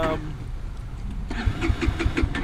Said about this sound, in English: I got to set it back to half choke because it does not want to start with no choke.